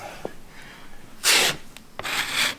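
Putty knife pulling joint compound tight across a wall, giving short scraping strokes, a couple of them distinct and close, with quiet gaps between.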